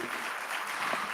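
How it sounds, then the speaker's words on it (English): Steady crowd applause at an international spiritual conference in Nairobi, greeting an African dance team after their performance, a brief dense burst of clapping with no voices on top. "Another big round of applause for them."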